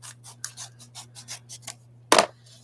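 Scissors cutting open a paper envelope with a series of short, rhythmic snips close to the microphone, then one sharper, louder crunch near the end over a low steady hum.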